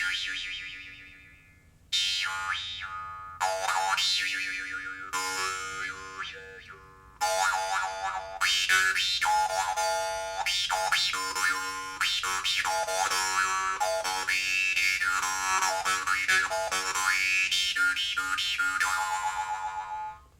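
A double-tongued Dan Moi jaw harp is played in a bright, twangy stream of repeated notes, with short pauses early on before a continuous loud passage of shifting overtones.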